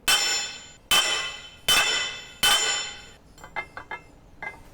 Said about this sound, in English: I'm gonna just try to whack it with a hammer and see if that affects these